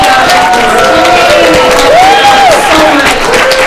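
An audience at a civic hackathon demo breaks into loud crowd applause mixed with cheering and a rising, falling whistle-like whoop, close and full throughout.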